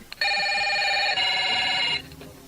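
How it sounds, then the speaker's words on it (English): An old-style telephone bell rings in one sustained burst of nearly two seconds in a radio drama, loud and close against a quiet background. "Using the telephone."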